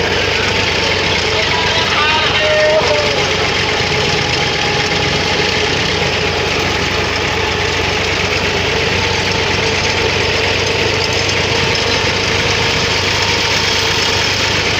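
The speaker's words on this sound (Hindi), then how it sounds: "नहर के किनारे पर ड्राइव कर रहा हूँ ट्रैक्टर ट्राली को।" A tractor pulling a trolley along a village canal bank gives a steady, close, knocking engine drone that continues unbroken throughout.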